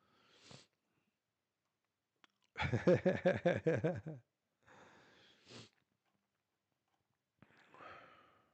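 A few short, sharp sniffs scattered through a quiet stretch, with a burst of voiced, throaty noise in the middle.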